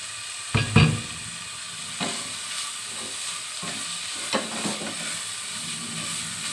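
Ingredients stir-fry in a pan until dry, giving a soft steady sizzle with a few louder scrapes and stirs near the start. No one speaks.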